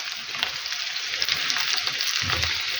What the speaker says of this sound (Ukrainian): І буду гарненько перемішувати за це з цибулею, щоб не підгорала цибуля.